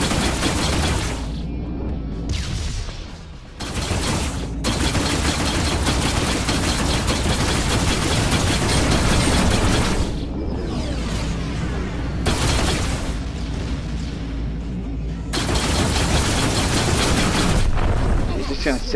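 Ship weapons fire at pirates in the space game Rebel Galaxy from a Sequoia light cargo ship: long sustained bursts of heavy rapid fire and booms, broken by brief lulls, loud throughout.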